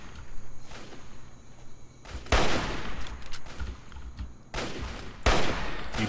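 Shotgun gunfire in Fallout 3 rings out in several loud bursts, each a broad crack followed by a brief tail, with a low mechanical hum running underneath between shots.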